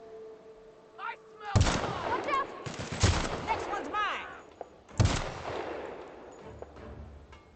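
Sharp gunshots ring out in The Outer Worlds as sniper fire lands, three loud cracks spaced a second or two apart, with game effects and chatter-like tones in between.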